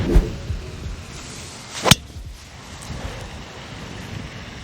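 Strong wind sweeps across an open golf course and buffets the microphone in a steady roar, broken by a couple of sharp knocks, with no talking.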